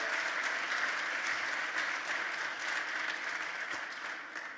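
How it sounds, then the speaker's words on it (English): An audience at a political event in Westchester County gives a round of applause, a thick, even roar of many hands clapping that holds steady throughout and eases slightly at the end. "Let's give her a great round of applause for all the good work she does."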